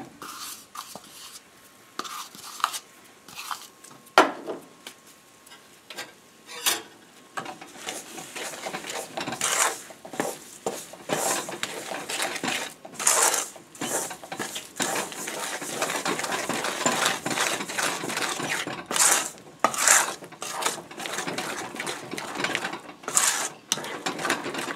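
Rava kesari being stirred in a pan after a cup of sugar goes in, with continuous scraping and clicking of a utensil against the pan, irregular and close, alone without speech throughout.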